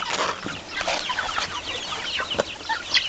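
Young laying hens, about two months old, cluck and chatter in a farm coop while being fed weeds, a busy overlapping stream of short clucks and squawks close by with no talking.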